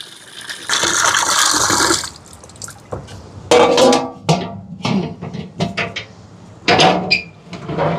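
Water pours and splashes into a container, with a steady gush at first, then clattery, intermittent bursts and clinks as the flow continues.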